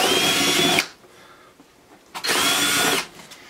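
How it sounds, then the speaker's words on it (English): A power drill whines loudly in two bursts, spinning up and boring quarter-inch holes through a box, with a short quiet pause between them. "I'm just gonna drill a couple holes right through here"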